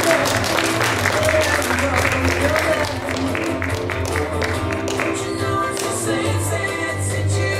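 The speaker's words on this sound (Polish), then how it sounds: "A państwa poprosimy o oklaski." An audience at a regional youth theatre and vocal festival applauds during an awards moment. The steady clapping mixes with tonal music playing throughout.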